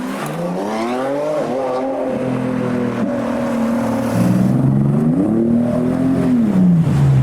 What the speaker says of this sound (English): Lamborghini Miura